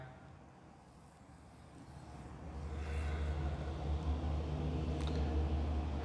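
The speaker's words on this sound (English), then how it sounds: "I bet you don't miss the traffic so much." Road traffic passes outside with a steady low rumble of cars and heavier vehicles, growing louder partway through and holding at a moderate distance, with one brief hiss like an air brake near the end.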